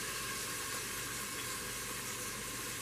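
Chicken searing in an Instant Pot, a steady loud sizzle and hiss that holds without break for a few seconds.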